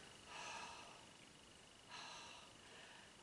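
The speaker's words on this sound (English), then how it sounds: "that sound you make in your breath, it's called Ujjayi breathing" Two slow, audible throat breaths of ujjayi breathing during a chair yoga session, soft and hissing, each lasting over a second with a pause between, faint and close with no talk.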